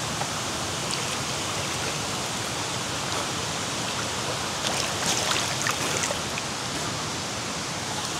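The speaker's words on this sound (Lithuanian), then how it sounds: "Pirmas krioklys." A jungle waterfall gives a steady, close rushing roar of falling water that fills the whole stretch without pause, with no voices.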